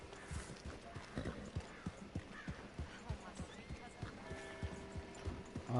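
Horse hooves clip-clopping in Red Dead Redemption, a steady rhythmic trot of close, fairly quiet hoofbeats with a brief whinny early on, heard alone without talk.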